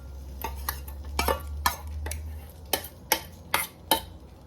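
Vegetables tossed and stirred in a frying pan, a series of sharp utensil scrapes and clinks against the pan, irregular at first and then evenly spaced, over a low steady hum.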